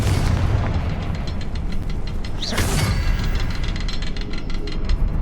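A Confringo fire spell explodes in Hogwarts Legacy inside a cave: a loud burst with a brief rising whoosh near the middle, over a constant dense rumbling background of game music and ambience.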